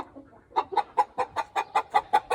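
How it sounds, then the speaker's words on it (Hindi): A flock of chickens and roosters kept loose in an open yard, clucking in a steady run of about ten evenly spaced, close and fairly loud calls, with no talking. "ये सारे जोड़े, सारे मुर्गे इधर खुले रहते हैं"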